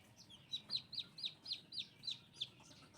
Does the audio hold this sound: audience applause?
no